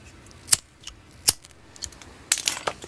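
Lighters from a collection of different models clicked for film Foley, giving a few sharp, close metallic clicks spaced apart, then a quick cluster of snaps near the end, with no voice.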